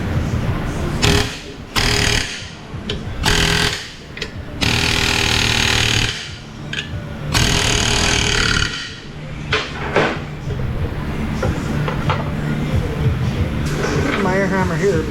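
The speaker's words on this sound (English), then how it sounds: "Now I need an air hammer." A pneumatic air hammer works on a Chevy Traverse during an ABS repair, loud rattling bursts starting and stopping over about fifteen seconds, with someone talking between and over the hammering.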